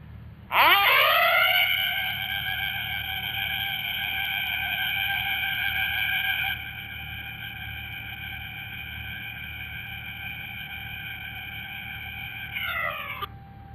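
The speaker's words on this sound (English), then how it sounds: "we're going to do another audible alarm so everybody can hear" A loud, steady warning alarm tone at Didcot power station before a demolition blowdown rises quickly and holds for about twelve seconds, dropping in level partway through, then stops abruptly.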